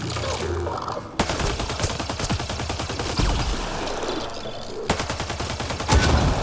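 Rapid automatic gunfire in the Mass Effect Andromeda video game, aimed at a Ket device. Long sustained bursts of fast shots with brief pauses in between, loud and close.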